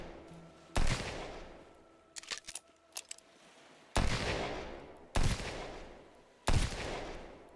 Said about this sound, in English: However, I can shoot back.